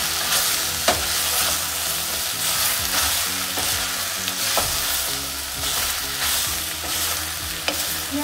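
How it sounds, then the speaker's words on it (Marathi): Chopped vegetables and coriander sauté over a high flame for hara bhara kebabs, a steady loud sizzle and crackle with occasional clicks of stirring, close and continuous. "आणि परत एकदा छान सॉटे करून घ्यायचा हाय फ्लेमवर।"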